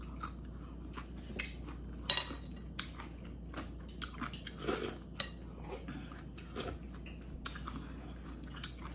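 Someone eats green onion kimchi, with soft chewing and a few sharp clicks of cutlery against a dish, close but quiet, with no talk.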